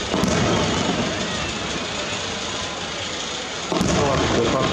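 Green fireworks burst over Nagashima in a continuous loud crackling wash, with a sharper report near the start and another near the end, under a voice.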